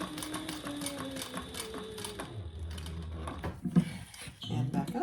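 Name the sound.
sewing machine stitching across the bottom of a shoulder bag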